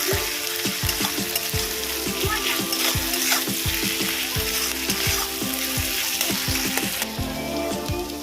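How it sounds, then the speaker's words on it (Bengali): Ginger-garlic paste sautéing in a hot pan, a loud, dense sizzle near the mic with repeated rhythmic scrapes and knocks of a spoon stirring against the pan. "দেবো আদা রসুনের পেস্ট এক চামচ এটা ভালো করে কষিয়ে নেবো যতক্ষণ না কাঁচা গন্ধ যাচ্ছে"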